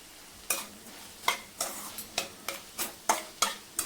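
Rhythmic scraping of a spoon stirring onion sautéing with a little salt in a pan, about ten regular strokes over a soft sizzle, close and clear with no talking.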